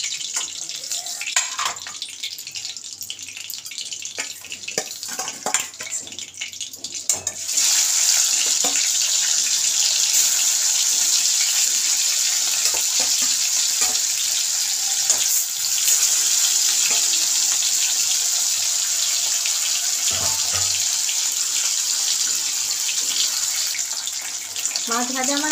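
Hilsa fish fry in hot oil, first a light sputtering crackle, then a loud, steady sizzling hiss that carries on for the rest of the stretch, with occasional faint sounds of handling.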